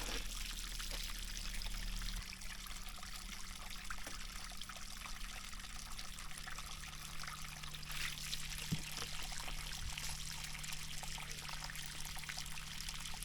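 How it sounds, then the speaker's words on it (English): Underground water pours and trickles from a pipe in a steady, close stream, with a constant low hum beneath it and a faint knock partway through. "The water from underground will be nice and cool."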